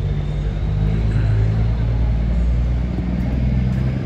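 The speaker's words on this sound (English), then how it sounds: "Buses going up and down this boulevard here, this main street here" Buses and traffic driving along a main boulevard in Chapala, Mexico: a continuous low rumble of engines and tyres passing, steady and moderately loud, with no clear talk.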